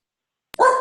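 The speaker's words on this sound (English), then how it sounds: "Deborah, are those your dogs?" A house dog gives a single sharp, loud bark right after a short click, heard close up with nothing else around it.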